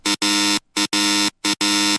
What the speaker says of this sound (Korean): 갑자기 부대 내부에서 경보음이 울렸습니다.